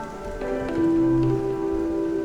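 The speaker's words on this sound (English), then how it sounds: "It's rainy and stuff" Steady rain pours down outdoors, a continuous broadband hiss with a few louder tones and a low hum mixed in, holding fairly loud for the whole stretch with no talking.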